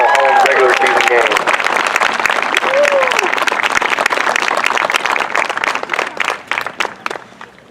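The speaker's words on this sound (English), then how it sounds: "one more round of applause for these fine young men on their final home regular season game." Crowd applause at a high school senior night honoring the players at their final regular-season home game, dense clapping filling the gym with cheers and shouts mixed in, thinning out toward the end.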